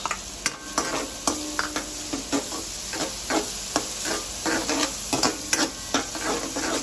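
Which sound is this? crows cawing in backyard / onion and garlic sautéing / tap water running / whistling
onion and garlic sautéing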